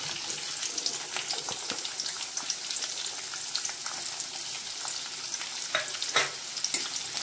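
Chopped onion frying in oil with cumin and mustard seeds, a dense continuous crackle with frequent small pops and occasional spatula scrapes, steady and close throughout without speech.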